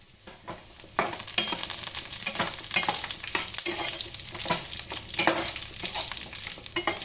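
Green chillies fry in a little oil for a coriander-leaf thokku, a steady close sizzle broken by repeated scrapes and knocks of stirring.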